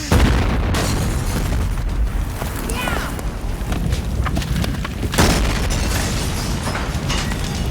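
A house blows up in the 1996 film Uncle Sam, with loud booming blasts and rumble continuing throughout, a sharper burst near the middle, mixed under dense soundtrack noise and voices.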